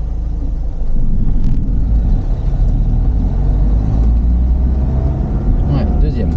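A car pulls away in first gear, its engine giving a loud, close, steady low rumble that holds throughout with slight rises in effort.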